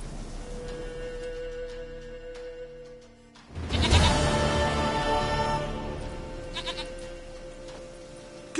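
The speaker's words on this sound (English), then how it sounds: "Goat of mine, dearest," Goat bleating in The Witcher 3, a loud drawn-out cry that swells suddenly midway and trails off, set over steady game ambience with a faint rain-like hiss.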